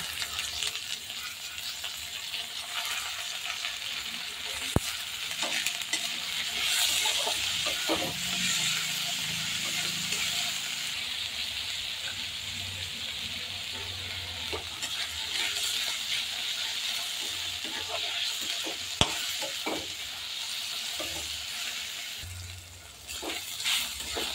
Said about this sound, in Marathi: नंतर अद्रक लसूण याची पेस्ट घालून नंतर परत परतले